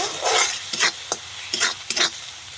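Spice masala with turmeric and chili powder being stirred and sautéed in a pan, giving four or five short scraping, sizzling strokes at close range with brief pauses between them.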